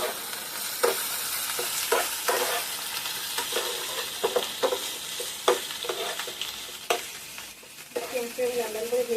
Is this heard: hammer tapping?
no